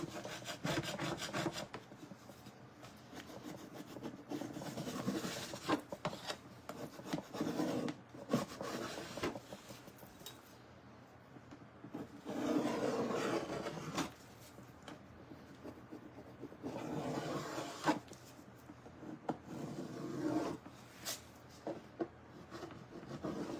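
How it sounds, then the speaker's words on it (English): Wood on a homemade banjo is scraped back and forth in varied directions, giving a steady, close rasping and rubbing that runs on and off with brief pauses. "The good thing about this is it doesn't matter like which way you scrape it"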